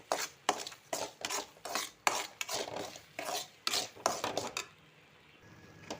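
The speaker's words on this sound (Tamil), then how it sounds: "இப்போ ஊற்றி நல்லா நம்ம இதை கிளறி விடுவோம்." Green gram laddu dough being stirred in a pan, with rhythmic heavy scraping strokes of a spoon against the metal, close and steady, then stopping near the end.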